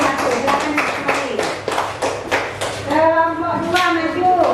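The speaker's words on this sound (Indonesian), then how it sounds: "Tepuk tangan untuk kelompok satu." A classroom group claps together in a quick burst of rapid hand claps, close and fairly loud, ending as a voice rises over the fading applause.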